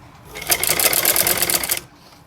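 A short burst of sewing machine stitching on cutwork fabric for palazzo pants, a quick run of rapid needle strokes lasting about a second and a half, close and loud, with no talk.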